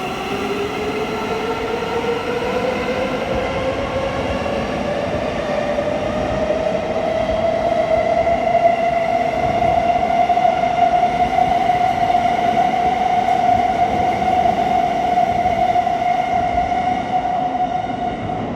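A train pulls out of London St Pancras bound for Bedford, a rising electric motor whine climbing and then holding steady over continuous rolling rumble, loud and close throughout with no talking.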